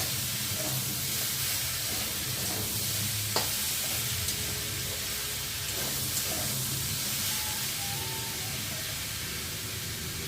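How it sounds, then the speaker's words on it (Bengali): Soybean chunks are sautéed with spices in a pan, giving off a steady, moderate hiss and sizzle with occasional faint stirring knocks. "আর এখন এই যে সয়াবিনটাকে মশলার সাথে কষিয়ে নিয়ে যাচ্ছে"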